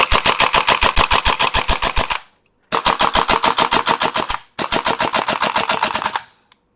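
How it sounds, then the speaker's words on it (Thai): A WE gas blowback AK-74 airsoft rifle with a steel body fires three loud, close full-auto bursts of rapid sharp cracks, each separated by a brief silence, with a faint click at the end. "ปืนยาวแก๊ส AK ยิงมันยิงสนุกเลยนะครับ"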